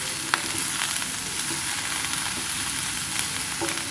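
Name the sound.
stirring frying nithyavazhuthana stir-fry in a pan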